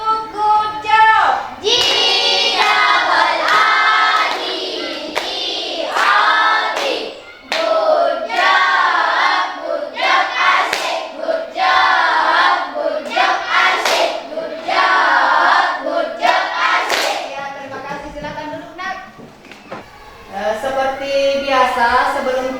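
An Indonesian school class performs a rhythmic clap-and-chant routine, children's voices singing in unison with sharp clap accents between phrases, close and lively over about twenty seconds, with brief pauses between rounds.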